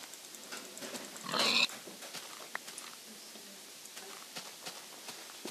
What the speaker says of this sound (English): I'm gonna kill these pigs.